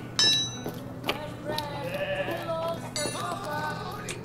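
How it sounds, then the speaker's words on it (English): Sheep bleat in a video game set in a village, short wavering calls heard near and moderately loud, mixed with clinking and game ambience, while voices talk. "Over here, sheep."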